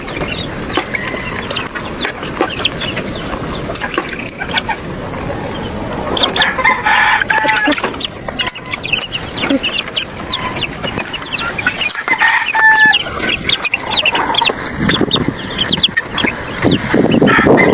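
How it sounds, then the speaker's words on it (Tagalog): Two-month-old chicks cluck and chirp continuously in a busy, dense flock chorus, with scattered louder calls standing out near the middle. "Napakalusog niyo ating mga sisiw ngayon na 2 months old."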